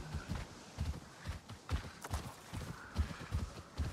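Hooves of a ridden mount in Avatar: Frontiers of Pandora thud in a steady, fairly quiet galloping rhythm, each footfall a soft low clop repeating through the stretch without talk.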